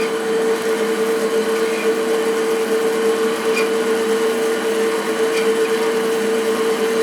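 Sears slo-speed saw converter motor running steadily with a sustained, even electric hum and whine, close and continuous without any talking.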